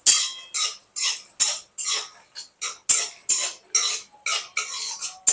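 Pea lentil dumplings (bori) frying in hot oil, giving close, repeated bursts of crackling sizzle with a clattering, stirring rhythm and no voices.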